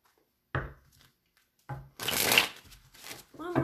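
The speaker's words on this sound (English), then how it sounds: "One more shuffle for you" A few quick riffles and shuffles of a deck of cards, close up, in short bursts separated by quiet pauses.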